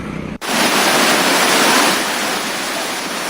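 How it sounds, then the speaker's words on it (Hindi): Floodwater pours from a dam after heavy rain, its gates opened. A brief quieter moment gives way to a loud, steady roar of rushing water that holds for the rest of the clip, with no voices. "दोनों बांधों से पानी ओवरफ्लो हो रहा है।"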